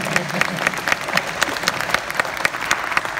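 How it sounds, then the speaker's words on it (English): Audience applause at a college wind symphony concert in a hall, a steady wash of many hands clapping with irregular sharp claps, sustained and fairly loud throughout. "You can applaud, that's fine"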